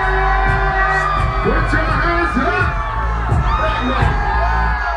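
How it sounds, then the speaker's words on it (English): A crowd at a live hip-hop concert screams and whoops loudly and continuously, mixed with shouting voices and a pounding beat underneath. "Everybody just scream."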